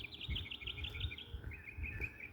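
Small birds chirp and tweet in repeated quick bursts outdoors on a city block, their calls fairly close and steady over low traffic rumble.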